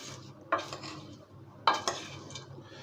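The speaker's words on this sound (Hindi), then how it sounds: "अब मैं इसको अच्छी तरह मिक्स करूँगा" Caramel-coated popcorn being stirred in a pot, with soft scraping and a few sharper clinks of the utensil against the metal over a quiet background, no voices.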